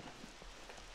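Steady rain pattering on surfaces in the video game SCUM, a dense, even hiss of droplets with soft low rumble, continuous and fairly close throughout the short stretch.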